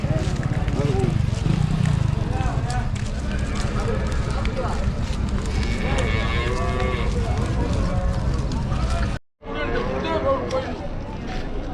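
Cattle low and moo repeatedly at a busy cattle market in Vaniyambadi, with steady crowd chatter and voices talking throughout and a brief dropout near the end.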